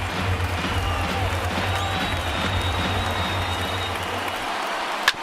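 A stadium crowd of over 38,000 in a MLB The Show 19 baseball game between the Phillies and Twins roars steadily, a dense continuous cheer with a low hum beneath, ending in a sharp crack near the close.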